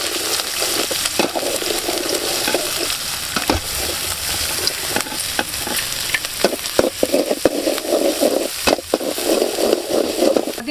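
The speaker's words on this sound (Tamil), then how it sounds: "அதையும் போட்ட உடனே வதக்கிட்டே இருக்கணும்." Garlic, ginger and green chili sautéing in hot oil, a loud continuous sizzle with frequent scraping and stirring strokes of a spoon against the pan, close up.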